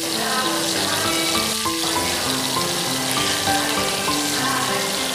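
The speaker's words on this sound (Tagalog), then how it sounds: "First, deep fry natin siya ang chicken." Chicken deep fries in hot oil, a constant dense sizzle and bubbling, close and steady, with faint background music-like tones underneath.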